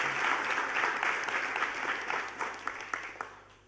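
Quiet applause from an audience for a small child who memorized the entire Shikshapatri, a steady patter of clapping that thins out toward the end, with no voices over it.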